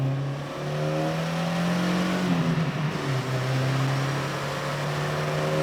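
A cheap Porsche engine pulling hard during spirited driving on a scenic road, a loud steady drone from inside the car that rises and falls as it shifts, with no talking.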